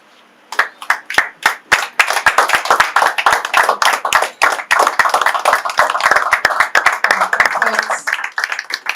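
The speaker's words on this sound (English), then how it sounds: "Ladies and gentlemen, a round of applause. Are we tired of clapping?" An audience at a church business and birthday event claps, starting with a few sharp separate claps that build into brisk, loud, rhythmic applause, with voices also present.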